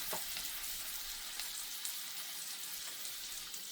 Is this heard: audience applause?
no